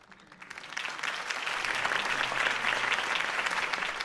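Applause from a crowd swells quickly and holds steady, a dense patter of many hands clapping, in the game Batman: The Telltale Series.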